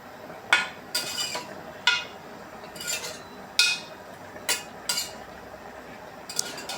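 A spoon stirs fish curry in a cooking pot, making about eight or nine sharp metallic clinks and scrapes in an uneven rhythm, close and fairly loud, with no speech.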